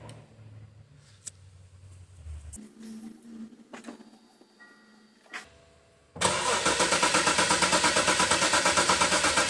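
A car engine cranks during an exhaust back pressure test for a clogged catalytic converter: quiet clicks and shuffling first, then the starter whirs in a fast, even, loud pulsing rhythm close by.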